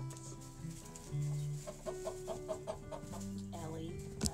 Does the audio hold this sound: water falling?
no